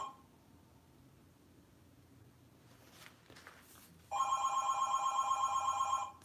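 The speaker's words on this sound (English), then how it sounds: "Sorry about the phone." A telephone starts ringing partway through, with steady repeated electronic trills loud over a quiet room with faint rustling before it.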